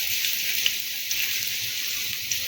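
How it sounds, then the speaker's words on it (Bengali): Onion, green chilli and cashews fry in a mix of oil and ghee, giving a steady close hiss and sizzle with small crackles and pops scattered throughout. "সবগুলোকে একসাথে আমি তেলের মধ্যে দিয়ে দেবো তেল আর ঘিয়ে মিশ্রণের মধ্যে"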